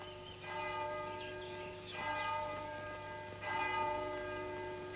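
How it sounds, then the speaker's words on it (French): Church bells ring the Angelus in three slow, resonant tolls whose tones hang and decay between strikes, heard at a moderate distance with no one talking. "Ces cloches viennent de sonner l'heure de sa liberté."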